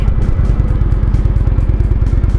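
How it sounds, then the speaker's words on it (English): A 2017 Indian Roadmaster motorcycle engine running close up in third gear, loud and steady with a fast, even low throb of firing pulses. "It's just a lovely torquey engine."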